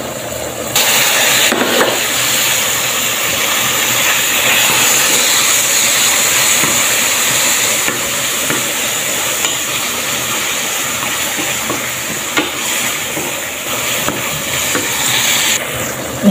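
Beef fries in a pan with a loud, close, unbroken sizzle that holds steady and slightly eases in the second half.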